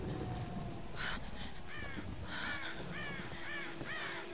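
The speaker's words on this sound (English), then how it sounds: "Fuck you, crows." Crows caw repeatedly in Tomb Raider Definitive Edition during a storm, several harsh calls in quick succession over a steady rainy background.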